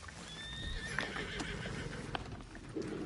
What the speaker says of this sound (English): Horse, you're fine.